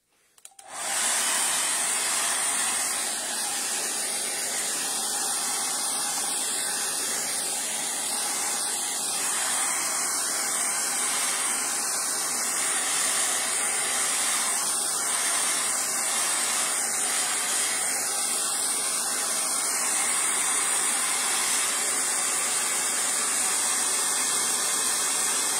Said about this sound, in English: So I'm just going to dry this now with a hairdryer.